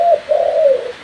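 A spotted dove gives a single close, loud coo, a smooth tonal note with a brief break near the start, heard alone.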